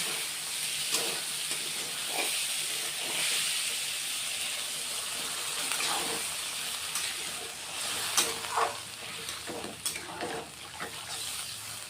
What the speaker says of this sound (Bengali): কষা হয়ে গেছে এখন জল দিয়ে দিব